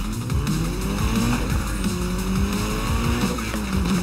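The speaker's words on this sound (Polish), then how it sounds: "po prostu każdy samochód, dźwięk silnika jest świetny" Racing car engines in the Need for Speed: Most Wanted (2012) video game roar and rise and fall in pitch with repeated tire squeals and skids, loud and close, with no talking over them.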